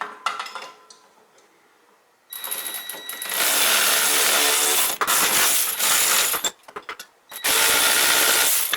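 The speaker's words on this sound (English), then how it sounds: "So I just have a wrench on the inside" A wrench works on a wheel hub bolt behind the backing plate of a 2004 Toyota Highlander during a rear wheel bearing job. Loud, close bursts of ratcheting and grinding come in several long stretches separated by short pauses.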